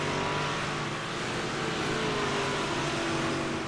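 Jump cars race at the Weedsport dirt track, their engines a loud, continuous roar with a steady broadband rumble and no talk over it.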